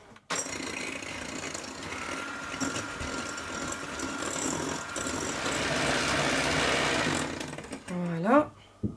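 Electric mixer whirs steadily while beating eggs and sugar for a coffee tiramisu, a continuous motor drone that stops near the end, with a brief voice afterward.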